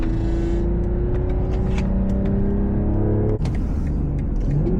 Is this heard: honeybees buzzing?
no